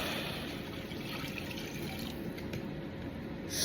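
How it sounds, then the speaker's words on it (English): Water pours steadily into a pot of red beans for Zatarain's red beans and rice, a continuous trickling fill that stays fairly even and close throughout. "Let's add the water."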